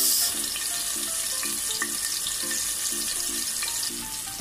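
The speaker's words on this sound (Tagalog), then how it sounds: "saute lang natin ng mga 5 minuto" Steady sizzling of onions sautéing in hot oil in a pot, a continuous crackling hiss with faint clinks of stirring, close and even throughout.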